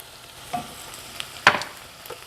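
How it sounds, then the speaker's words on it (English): Onions sautéing in a pot for broccoli cheese soup, a faint steady sizzle marked by a few brief stirring scrapes and one louder clink, close up. "While the onions are sauteing, I'm going to go ahead and add some salt"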